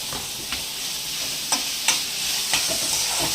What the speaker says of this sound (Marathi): लालसर झाला त्यानंतर आता टाकलं टॅमॅटो त्याच्यामध्ये.